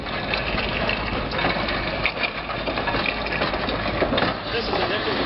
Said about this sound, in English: This is what's known as a side mount plow engine